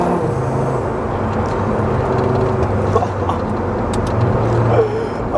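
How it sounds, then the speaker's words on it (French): A five-cylinder car engine hums and revs steadily up close, a deep throaty drone that rises and falls in pitch over several seconds. "Le 5 cylindres, tu entends tout de suite la différence."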